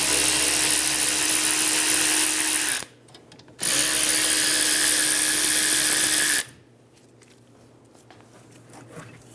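Power tool with a 14mm socket removing caliper bolts on a Toyota Camry, two loud close whirring bursts of about three seconds each separated by a short pause, then quiet.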